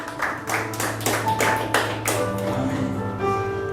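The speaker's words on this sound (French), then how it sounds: "Acclamons la sainte parole de Dieu" A church congregation claps and applauds, a loud run of hand claps building and then thinning out, with a sustained piano or organ chord held underneath.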